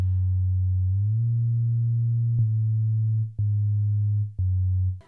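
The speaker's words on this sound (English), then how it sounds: "Sine 1 is being used as a low bass. It's literally just a sine wave from the sound font." Pure low sine-wave bass from an Earthbound sound font, a smooth steady hum that steps up in pitch once and then pulses in a few separate held notes, clean and alone.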